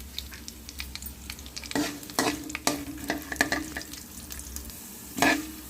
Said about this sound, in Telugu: 2 ఎండుమిర్చి, మన పోపు సామాను, ఆవాలు, జీలకర్ర, మినప్పప్పు, పచ్చెనపప్పు ఇవి వేసేసుకుని చక్కగా కలిపేసుకుందాము